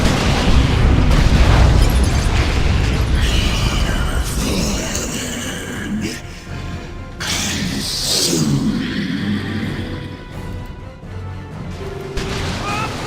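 A bunker blows up in the Dawn of War II: Retribution campaign with a loud, rumbling boom. The blast rolls into continuing battle noise of crashes and bursts over a low background drone.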